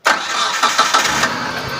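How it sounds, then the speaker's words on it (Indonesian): A 2017 Mitsubishi T120ss pickup with a 1500cc injection engine starts with a short cranking burst and catches into a steady, smooth idle, close and loud. "sekarang kita tinggal cek aja untuk suara mesin dari langsam sampai ke RPM tinggi"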